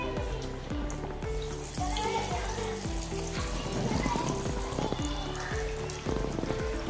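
Flattened banana flower dal vada patties fry in hot oil with a continuous crackling sizzle and bubbling. Sharp spatters and pops come close and fairly loud, with small bursts as more batter goes into the oil.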